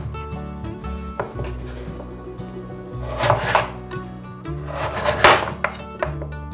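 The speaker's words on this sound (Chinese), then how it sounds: "把芋头切成条状，这里比较宽，可以先切一半。" A knife cuts taro into strips on a cutting board: a handful of sharp, uneven chops and thunks, close and fairly loud, over a steady low background hum, with no talking.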